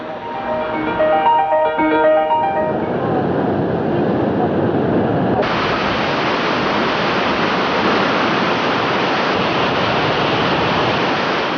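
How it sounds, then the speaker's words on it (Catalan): Ebro river in flood at Tortosa, a loud continuous roar of rushing water filling the whole clip, dense and steady from start to finish, heard alone without any voices. "A Tortosa, l'Ebre va augmentar el seu cabal de manera preocupant i fins i tot va arribar a eixir-se'n en alguns punts"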